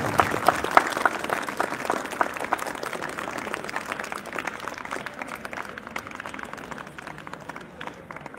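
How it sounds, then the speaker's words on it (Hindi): Applause for a school kabaddi team at a satsang event at Perfect School, Akodara, a crowd clapping steadily with a few sharp individual claps early on, gradually thinning and fading toward the end. "एक बार जोरदार तालियां हो जाए हमारी कबड्डी टीम के लिए"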